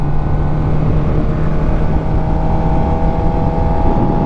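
A Suzuki GSX-R 600 sport motorcycle on a steady cruise, its engine droning loud and close with constant wind rush and a fairly even tone that holds throughout.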